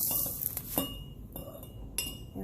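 A spoon stirring sugar into a cup of hot basil tea, with a few light clinks against the cup's sides over a soft background hiss.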